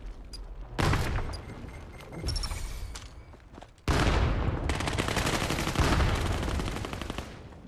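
Bursts of rapid gunfire from the VR shooter game Vail, a short volley followed by longer sustained automatic fire, loud and close.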